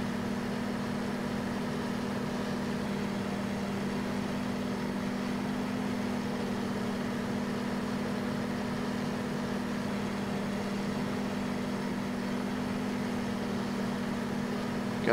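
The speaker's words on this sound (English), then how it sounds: "Park my tractor." A tractor engine idles steadily in the Farming Simulator game, a constant low hum with a strong tonal drone that holds evenly and loudly for the whole stretch, with no talk over it.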